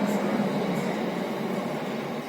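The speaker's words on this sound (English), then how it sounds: "I don't know if you can hear the train" A train passes near an allotment garden, producing a steady, broad rumbling roar that stays fairly loud and constant throughout, with no talking.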